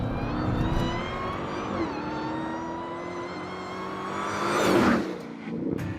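A heavy Dodge Challenger SRT Hellcat muscle car accelerates hard, its engine note climbing steadily through the gears with a louder surge near the end, close and continuous.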